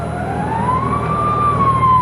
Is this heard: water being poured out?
no